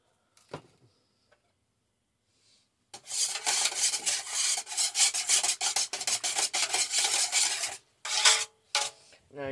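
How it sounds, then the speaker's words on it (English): Liquid body soap made with horsetail reed and stinging nettles is whisked in a container, with rapid, close scraping and rasping strokes in long bursts after a couple of faint knocks, briefly pausing before resuming. "The more you whisk, the more chance of making the lather up."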